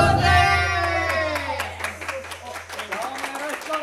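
An audience applauds as the idol group SixTONES open their show, with scattered crisp hand claps running under close, continuous talking and laughter.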